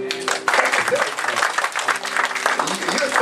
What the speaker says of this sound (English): Give yourself a clap offering.